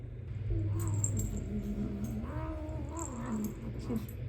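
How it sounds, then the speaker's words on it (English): A female cat calls out indoors with several drawn-out, wavering meows and yowls close by, over a low steady hum and some faint jingling. "My cat, she just wants to make an entrance for you guys."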